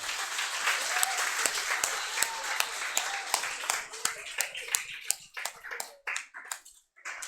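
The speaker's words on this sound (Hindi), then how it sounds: "एक बार बेटा इसके लिए जोरदार ताली हो जाए बेटा एक बार।" A class of students clapping on cue in a lecture room, fairly close, starting as dense applause and thinning into scattered individual claps toward the end.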